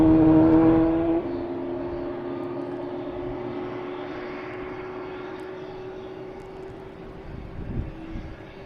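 Spirit passenger jet arriving at Boston Logan, heard from a spotting spot nearby as a steady, loud engine roar and whine that swells briefly at the start, then holds and slowly fades.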